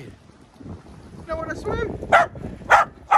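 A few sharp dog barks ring out near the end, spaced apart, following a person speaking a short greeting over wind noise outdoors.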